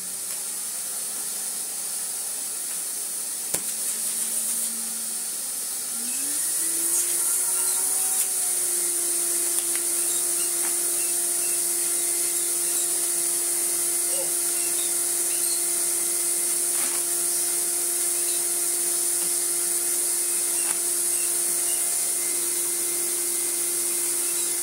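Vintage Electrolux Sup'Air Z237 vacuum cleaner switched on at low suction, spinning up after a few seconds of quiet into a steady, sustained motor whine with a high airy hiss that holds evenly to the end, with no voices.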